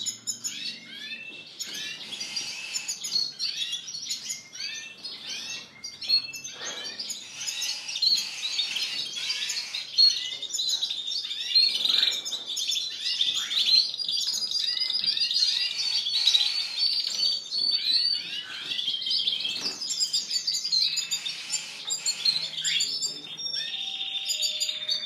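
Canaries sing continuously in a bird shop, a dense, bright chorus of rapid trills, chirps and warbling phrases from several birds layered together at steady volume, with no talk.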